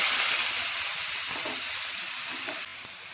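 Small ghusho fish frying in hot, slightly burnt mustard oil in a home kitchen, a loud, steady bright sizzle and hiss that continues throughout.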